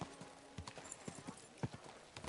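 Hooves of a horse clip-clop at an easy walking pace, a series of sharp near knocks, with a person talking over them.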